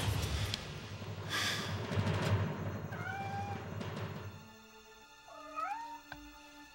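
An escaped kitten gives a few thin, high meows, first amid a noisy rustling background, then more clearly in a quieter stretch near the end.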